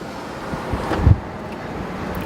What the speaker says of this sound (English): it's windy today, so it's not a great day for flying